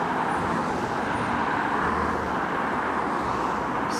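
Cars passing on Church Road make a continuous roadway hum with low tyre rumble, moderately close and steady, with no talk.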